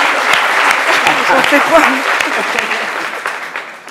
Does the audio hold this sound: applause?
yes